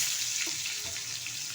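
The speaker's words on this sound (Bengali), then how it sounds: "এখন কেটে রাখা পটলগুলো আমি ভালোভাবে ভেজে নেব।" Cut pointed gourd pieces frying in hot oil seasoned with a little turmeric produce a soft, continuous sizzle with faint crackles, fairly quiet and steady, with no voices.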